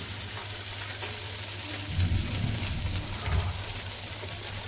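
Vegetables frying in hot spiced oil in a pan for Bengali shukto, a steady close sizzle that swells louder for a couple of seconds as the pieces go in, then settles back to a continuous crackle.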